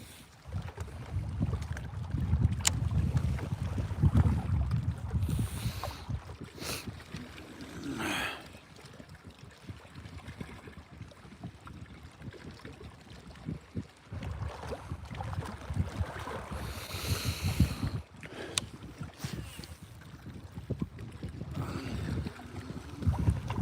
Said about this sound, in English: that wind started to pick up a little bit, though.